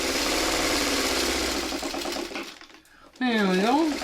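Sewing machine stitching a placemat, a fast steady mechanical whir that slows and stops, followed by a voice speaking.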